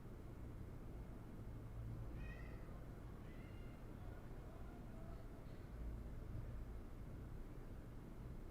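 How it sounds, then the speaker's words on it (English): A cat meows a few times in the background, faint and brief, over a steady low hum of room noise with no talking. "My cat is just meowing in the background."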